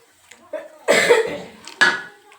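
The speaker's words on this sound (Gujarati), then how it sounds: "ઉધરસ તો આવત" Two sharp, harsh coughs close by, about a second apart, with faint rustling in between.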